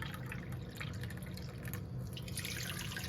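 Hot water is poured into a small kitchen bowl for making shankarpali, a steady, quiet splashing trickle with light dripping that runs continuously for a few seconds.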